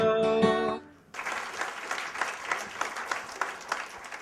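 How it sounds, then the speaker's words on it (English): A short musical phrase ends, then after a brief pause a live audience breaks into steady, moderately loud applause that continues to the end. "I'll let him know that you guys gave such a nice applause at the end"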